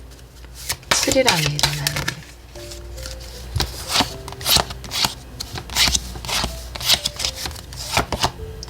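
Oracle cards being shuffled by hand: a quick burst of riffling near the start, then scattered soft flicks and taps continuing beneath a woman's speech.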